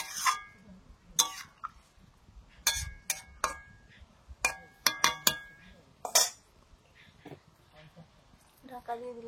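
A lid goes onto a pot of tangra and parshe fish curry with tomato and coriander. Several sharp metallic clinks and clatters come in irregular bursts close by, with coughing and some talking between them.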